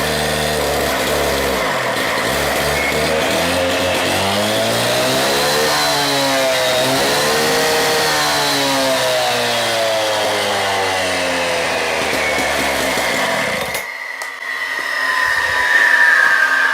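A Husqvarna K770 cut-off saw engine runs on gas, loud and close, revving up and down through a sweeping pitch before cutting off abruptly near the end.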